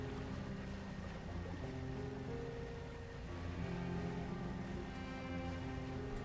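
A boat fitted with jet drive engines cruises at high speed in the fishing game Dredge, giving a steady droning engine hum with watery rushing underneath, continuous and even throughout.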